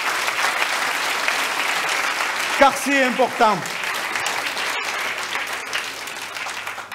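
At a mayor's New Year address in a French town hall, the audience applauds those who protect and support the community: steady, dense clapping from a crowd, with someone briefly speaking over it midway.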